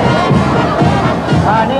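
An adoring crowd around Corazon Aquino roars and cheers continuously, a dense, loud wall of shouting voices heard up close for a brief moment.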